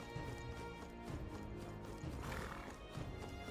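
Horse hooves from the video game Metaphor: ReFantazio, a steady mid-volume clip-clop running throughout with a whinny mixed in over a dense game soundtrack.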